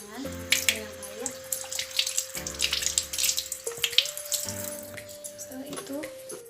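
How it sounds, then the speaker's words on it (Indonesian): Running tap water splashes over hands being rinsed at a sink, an uneven close splatter heard under a steady background tone. "pertama-tama kita basuh dulu tangan dengan air"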